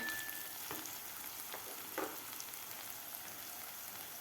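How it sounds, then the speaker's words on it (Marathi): Soft, steady sizzle of dry spice masala (turmeric, cumin, coriander powder, garam masala, red chilli powder) sautéing in hot oil for a village-style toor bean amti, with a few faint scraping stirs. "ते मसालेसुद्धा आपल्याला व्यवस्थित परतून घ्यायचे आहेत एक मिनिटभर चांगले मसाले परतून घ्यायचे आहेत"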